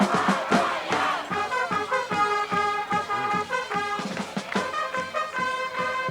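A crowd fills nearly full stands at a 1990 high school football game between East Brunswick and Sayreville, with sustained, loud, roaring cheers and chanting voices that rise and fall steadily across the stadium.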